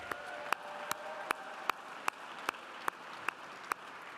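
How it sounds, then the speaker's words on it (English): Gala audience applause, a soft distant wash of clapping with a few sharp, evenly spaced louder claps standing out close by. "I'd like to suggest a round of applause for all of those folks."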